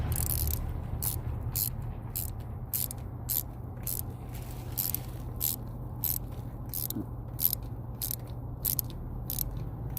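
Rocker stud being tightened with a ratchet on a Chevy 3.1L engine in a Malibu, its pawl clicking steadily in a long run of evenly spaced ticks over a constant low shop hum, close and moderately loud, with no talking.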